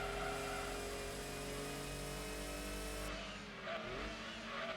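Engine of a car running without a turbo in the Gran Turismo 2 racing game, a steady droning groan with tire squeal, holding loud throughout and dipping briefly before picking back up.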